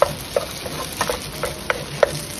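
Pad thai noodles with fresh shrimp are stir-fried in a pan, a spatula scraping and tapping in irregular strokes over a soft, steady sizzle, close and fairly loud.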